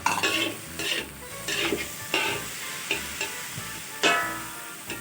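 Day-old cooked rice with diced Chinese sausage being stir-fried in a pan, spatula scrapes and stirs striking repeatedly in uneven bursts over a soft sizzle, close and clear with no voices.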